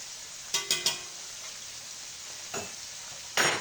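Mushrooms frying in oil give a soft, steady sizzle, broken by a few sharp crackles and pops, the first three close together and the rest spaced out.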